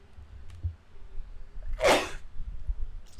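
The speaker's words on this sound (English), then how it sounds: "Oh, I just sneezed." A single sharp human sneeze bursts out near the microphone midway through, loud against a quiet room with faint low background rumble.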